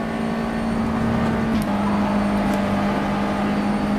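A USF2000 race car in rFactor 2 drones with a steady, close engine tone at high revs down a straight at Watkins Glen, with a slight pitch shift partway through and no talking.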